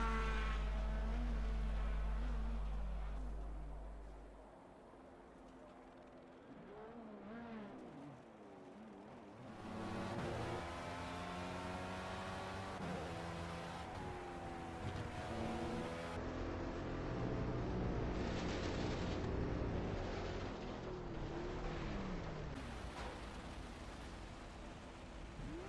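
Engine whine of a single-seater race car lapping Hockenheim in Project CARS 2, steady and loud with pitch sweeping up and down through gear changes, a deep rumble at the start.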